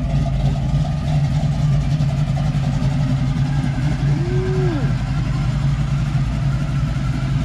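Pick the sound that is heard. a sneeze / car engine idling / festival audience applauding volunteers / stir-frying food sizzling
car engine idling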